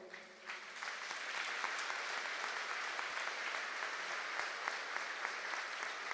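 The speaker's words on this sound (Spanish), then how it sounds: "Y yo creo que aquí debemos de darle un aplauso a Madre Teresa." Applause for Mother Teresa from a large crowd at a religious gathering: sustained, even, dense clapping heard from a distance, steady for several seconds with a faint voice at the start.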